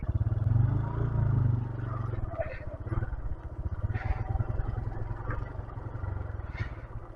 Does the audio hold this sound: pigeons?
no